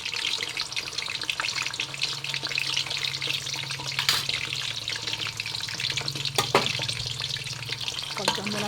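Pako fern fries in hot oil, giving a loud, steady crackling sizzle with scattered pops and faint stirring clatter throughout.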